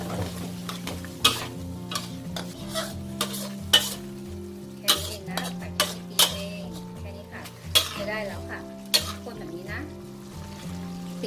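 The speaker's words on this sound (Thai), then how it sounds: "เราก็จะใช้วิธีการหยดค่ะค่อยๆหยดไปนะ แล้วคนค่ะ" A utensil stirs starch slurry into simmering broth in a pot for Thai braised tofu, scraping and clinking against the metal in a steady rhythm alongside faint sizzling, while someone talks over it.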